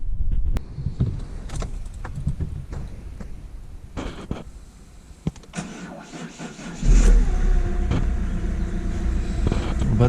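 Starter cranks a PSA 1.6 HDi 8-valve diesel engine on a slightly weak battery until it catches near the seven-second mark, then settles into a loud, steady diesel idle close by.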